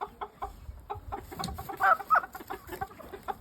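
Shamo game chickens packed up for shipping cluck and murmur softly in short, irregular bursts close by, with a brief louder squawk partway through.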